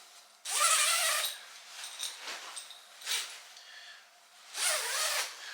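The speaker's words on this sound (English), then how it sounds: "really good robust zips" A robust zip on an army surplus sleeping bag is pulled in several close, loud rasping strokes, with a long pull at the start, smaller tugs in the middle and another long pull at the end.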